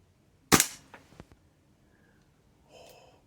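A PTS Mega Arms gas blowback airsoft rifle fires a single sharp crack, followed by a few quick clicks of the bolt cycling, with a faint mechanical rattle near the end.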